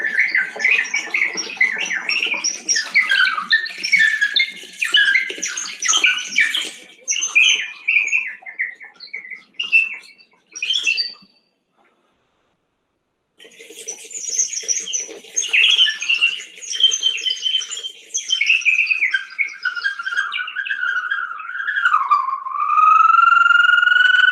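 A water piston-and-bell flute mimics the calls of birds, amphibians and insects, producing bright, sliding chirps and warbles that run almost without pause, break off briefly in silence, then resume and end in a steady whistled tone.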